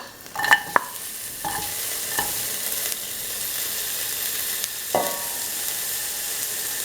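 Onion pieces frying in hot oil in a pan while cooking potato, rice and kidney beans, giving a steady close sizzle broken by a few sharp clinks and scrapes of a utensil, with no talking.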